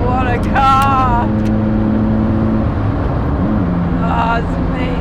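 A Ferrari F40 with its turbo engine spooling up, a steady mechanical drone heard from inside the car, with people talking over it and a brief tonal rise near the end.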